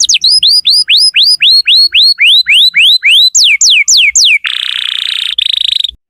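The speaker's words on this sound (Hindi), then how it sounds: "चिड़िया की आवाज़ बहुत प्यारी होती है।" A bird chirps in a rapid series of bright, rising whistled notes, followed by a harsh buzzing trill, loud and close.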